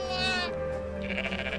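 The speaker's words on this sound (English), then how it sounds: "Oh my god, there's a goat." A goat bleats twice close by, a wavering nasal cry followed by a second higher, shakier call, with no voices over it.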